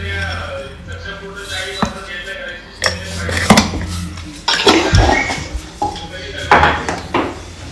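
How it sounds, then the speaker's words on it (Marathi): Dishes and pots clatter and clank in irregular bursts as they are loaded into a dishwasher in a home kitchen, with sharp knocks of metal and ceramic close by. "ते पाते डिशवॉशर आपण भांडी लावून घेऊ"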